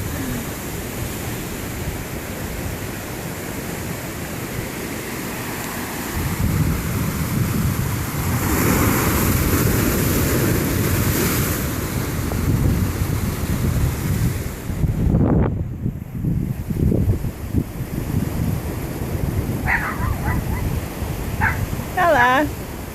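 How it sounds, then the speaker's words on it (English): Big ocean surf in Hawaii surges and crashes into a yard, a loud, broad roar that swells midway with a heavy crash, mixed with wind buffeting the microphone and a dog barking near the end. "And the big huge waves crashing in there."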